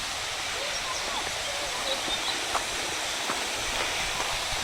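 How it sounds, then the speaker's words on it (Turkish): The Nideck waterfall pours down through a forest of green hills, giving a steady, even rush of water that fills the whole clip at a constant level. "Şelaleye geldik. Aşağı doğru akıyor."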